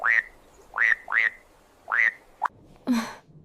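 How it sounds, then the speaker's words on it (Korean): A croaking frog effect in a children's fairy tale, the frog prince story: four short rising croaks in a steady rhythm, then a quick squeak and a broader final croak, close and clear with no speech. "목소리의 주인은 못생긴 개구리였습니다"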